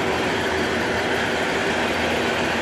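A JR East train at Kogota station platform in Japan, heard as a loud continuous broadband rumble and roar of rolling stock filling the whole clip without pause.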